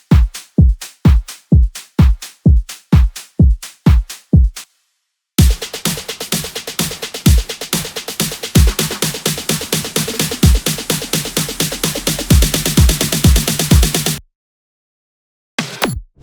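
Breakdown drum loop in a bass house track: a steady four-on-the-floor kick opens, breaks for a beat, then returns dense with claps, hi-hats, shaker and rolling build-up snares rising to a loud fill before a sudden stop, no voices.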